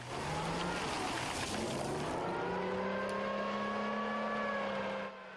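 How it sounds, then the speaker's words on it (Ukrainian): An American M113 armored personnel carrier evacuating wounded from Bakhmut drives past with a loud, continuous engine drone whose pitch rises and settles, its tone steady throughout before easing slightly at the very end. "Через декілька хвилин з'являється броня з Бахмута."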